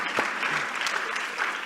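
Brief burst of steady audience applause at a mayors' summit session in a conference hall, dense clapping throughout with no speech over it.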